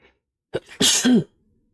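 A single sharp sneeze up close, preceded by a quick inhaled catch and ending in a brief voiced burst.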